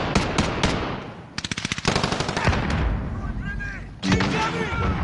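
Rapid machine-gun bursts and single gunshots ring out in a Call of Duty Warzone match, loud and close, with a heavy thump near the end, while voices talk over the fire.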